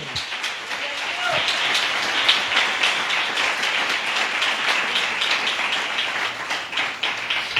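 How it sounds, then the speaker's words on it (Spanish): A church congregation applauding the Lord during an evangelical service, a sustained, dense patter of many hands clapping with a voice heard over it at times. "dale un aplauso al Señor"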